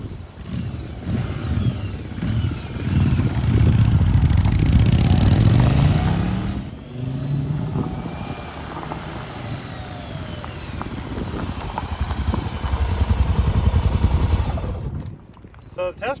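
A vintage Honda or Yamaha motorcycle roars along a road on a test ride, its engine loud and close with a rough, pulsing note, dropping briefly as it slows before revving up again and then cutting off abruptly.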